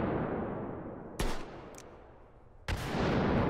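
Two sharp Nagant M1895 revolver shots crack in a VR shooter, about one and a half seconds apart, each a loud broadband burst over a decaying rumble of echo and background noise.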